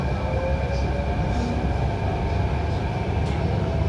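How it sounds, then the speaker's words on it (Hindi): A Delhi Metro Green Line train runs after leaving a station, giving a steady loud rumble and whine from inside the carriage, with faint squeals above it and no talking. "और हमारी मेट्रो अब चल चुकी है।"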